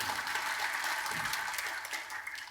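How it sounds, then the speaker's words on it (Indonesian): A church congregation claps together in dense, continuous applause at moderate distance, holding steady before easing off slightly at the end. "Berikan tepuk tangan yang meriah"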